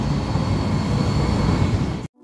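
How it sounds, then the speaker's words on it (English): A train rides into Boston with a steady, loud rumble and rattle of rail travel that continues without letup, then cuts off abruptly near the end. "We took the train into Boston,"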